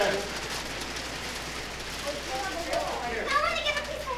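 Heavy storm rain with hail blowing in off Lake Erie pelts surfaces in a steady, dense roar, with people talking over the downpour.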